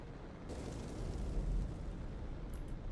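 A ball bursts into flame in the Q.U.B.E. 2 puzzle game, a soft steady whooshing roar of fire that swells briefly and then settles, quiet and without talk.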